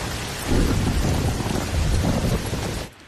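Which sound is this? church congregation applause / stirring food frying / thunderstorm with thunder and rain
thunderstorm with thunder and rain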